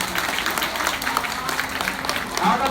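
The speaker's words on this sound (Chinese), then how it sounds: "喂食结束了，所以呢，要请各位来宾用热烈的掌声来欢送他。" An audience at an aquarium feeding show in Pingtung, Taiwan claps in a dense, sustained burst of applause, close and fairly loud, swelling slightly at the end.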